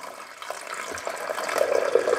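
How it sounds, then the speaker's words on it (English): Water is poured into the reservoir of a Cuisinart Coffee Plus 12-cup programmable coffee maker, a short steady splashing pour that grows slightly louder as it fills, close up with no talk. "Now it's time to pour the water in."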